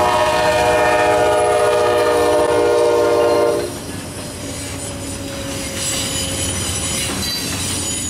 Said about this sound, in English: here comes the NS with a solo dash 9